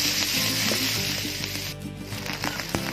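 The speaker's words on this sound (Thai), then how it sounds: "ผัดเนื้อหมูให้สุกครับ" Pork sizzling and stir-frying in a hot pan, with steady crackling and occasional scraping as it is stirred.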